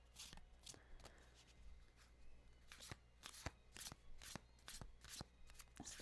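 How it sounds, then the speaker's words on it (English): Tarot cards being shuffled by hand, with quiet close riffles and flicks arriving in uneven bursts through a soft background, and nobody speaking. "It's the tarot shuffle"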